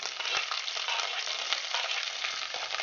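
Vegetables such as carrot, beans, capsicum and peas hit a frying pan over a low gas flame, giving a steady close sizzle with a few soft knocks and stirring scrapes and no talking.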